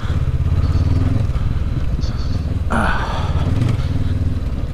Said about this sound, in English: I like the sound of this bike too when it chugs along